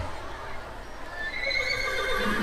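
A horse neighs as a stage sound effect during a school play, the whinny rising and trembling over a constant low hiss of room noise, moderately loud and alone without speech.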